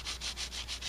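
Light sanding strokes on a van side door, a soft rhythmic rasp repeating about six times in under a second, close and steady.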